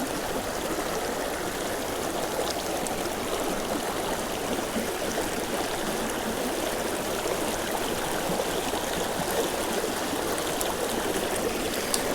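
River rapids in southern Colorado rush in a steady, even wash of flowing water, close and continuous, with no voices over it.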